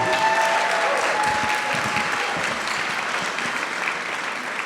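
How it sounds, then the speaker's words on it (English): Steady, dense applause fills the room at a 150th anniversary charity gala, loud and continuous throughout with no voices over it. "Let's cheer that."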